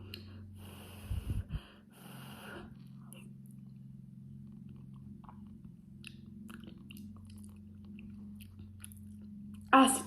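Soft close-up chewing and breathing while someone tastes an unusual dish containing bacon pieces, with a short burst of louder mouth noise early on, then quiet intermittent chewing and a brief sound at the end.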